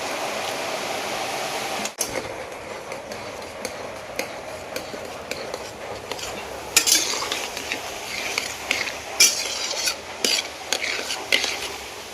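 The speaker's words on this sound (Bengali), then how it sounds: "বাকিগুলো এভাবে ভেজে নেবো" Madan katkati snacks frying in a pan and being stirred, with metal clinks and scrapes over a steady background sizzle, close and moderately loud, with no talking.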